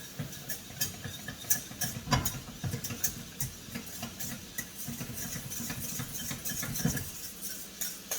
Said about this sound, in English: I just dump in all cheese at the same time